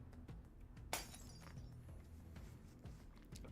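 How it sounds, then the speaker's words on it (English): Glass structures shattering in the video game Nikke: one sharp crash with a brief glassy tinkle, heard over a steady low game soundtrack. "It must be the sound of the glass structures breaking."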